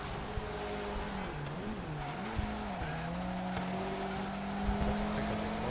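A race car in Forza Horizon 3 drives hard with a wavering engine whine rising and falling and repeated tire squeals from skidding through turns, loud and continuous.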